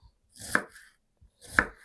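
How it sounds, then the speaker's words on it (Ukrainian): Two crisp knife strokes chop through an onion on a cutting board, about a second apart, close and clear. "Тож, нарізаю дрібним кубиком."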